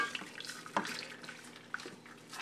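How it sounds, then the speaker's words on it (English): Flan custard mixture poured into a baking dish already coated with caramel, a soft continuous liquid trickle with faint splashes, quiet and close with no talking. "So now all I'm gonna do is pour my mixture in there."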